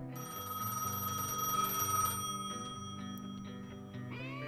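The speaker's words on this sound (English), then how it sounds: "answer the call on the phone booth" A phone booth ringing in the video game Gas Station Simulator, a steady metallic bell ring for about two seconds, then a sustained fading tone, clear and fairly quiet, with no talk.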